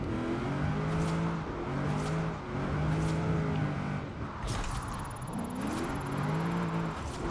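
An LS-engined drift car in Forza Horizon 4, driven in the rain, revs in steady surging pulses, its engine note rising and falling repeatedly over constant road and rain noise.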